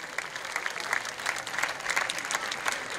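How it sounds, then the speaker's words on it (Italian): Crowd at a fashion and beauty gala at a resort applauds an international fashion designer, a steady wash of clapping with sharp individual claps standing out, moderately loud throughout three seconds without pause. "al quale va un grande applauso"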